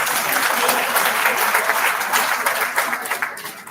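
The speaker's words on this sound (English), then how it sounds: "Please give yourselves a big round of applause." Sustained applause from an audience at a Lagos State Pension Commission event, a steady dense wash of many hands clapping that holds loud and even before tapering slightly at the end.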